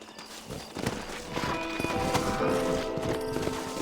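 Red Dead Redemption horses galloping, rapid clip-clop hoofbeats building up and staying close amid game ambience.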